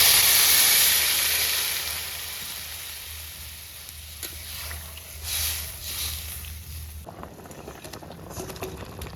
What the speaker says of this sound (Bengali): এই জল ঢেলে দিই।